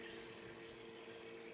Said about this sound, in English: That is the gargling noise of water that I have inside here.